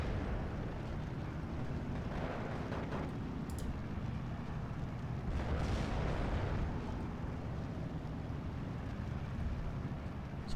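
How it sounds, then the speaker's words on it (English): Artillery fire in the World War II strategy game Steel Division 2: distant, muffled booms rolling under a constant low rumble of battle, with a few duller bursts standing out only slightly. "our artillery starting to support our units"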